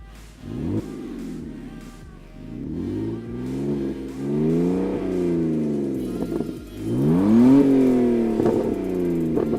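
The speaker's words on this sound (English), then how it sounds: "Yeah, it's really loud, and it has a little burble." A loud BMW E46 320i engine revs up and down repeatedly, its exhaust giving a deep, rumbling burble with rising and falling pitch, close by.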